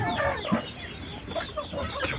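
Roosters and hens clucking in short bursts on a small farm, with a brief louder call near the middle and softer scattered clucks throughout, close by with no talking.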